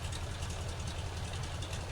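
Steady, even idle of a propeller aircraft engine in the YMF5 flight simulator, a low continuous hum with a slight knocking pulse, fairly quiet and unchanging, with no voices.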